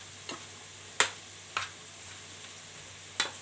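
Zucchini sauté with butter stirred in a pan: a quiet frying hiss broken by a few sharp, separate clicks of a utensil against the pan, spaced irregularly; no talking.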